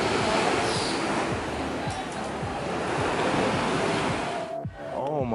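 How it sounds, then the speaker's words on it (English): Ocean waves wash steadily onto a beach, a loud continuous roar of surf with wind buffeting the microphone, briefly dipping near the end before the rush resumes. "look at that ocean"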